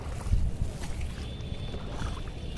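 A boat ride on Nainital lake carries a low, steady rumble of water and wind, with faint soft knocks and no voices.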